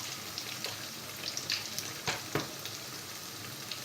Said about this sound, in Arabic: فوالا هكا نكمل نقلي كل الكميه نتاعي.